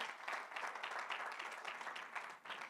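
A Sunday church service congregation claps in a brief, steady burst of applause, many hands together at moderate distance, quiet overall with a slight dip near the end.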